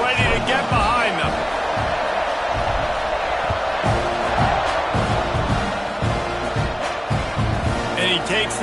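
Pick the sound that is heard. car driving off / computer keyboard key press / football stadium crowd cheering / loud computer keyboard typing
football stadium crowd cheering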